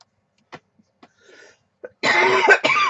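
A few faint, scattered throat sounds, then a loud, rough cough burst lasting about a second, close to the mic.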